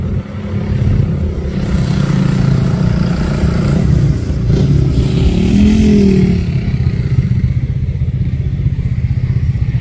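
A Bintang 6x4 HD 220 PS palm oil truck labors up a steep hill at Bukit Kodok, its heavy diesel engine droning loud and close with a steady low throb and a brief rising strain midway.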